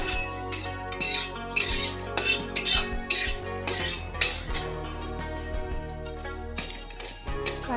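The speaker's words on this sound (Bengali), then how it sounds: "কাঠের ছিঁড়ি দিয়ে নাড়াচাড়া করলে একটা আওয়াজ কম করে" Spices and chilies dry-roasting in an empty kadai are stirred with a wooden spatula, giving a steady run of scraping, rustling and light clinking taps close up, without speech.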